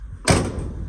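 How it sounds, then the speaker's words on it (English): The door of an old high boy plow truck slams shut once, a sharp loud thud followed by a short rattling decay, close up. "see that door even shuts."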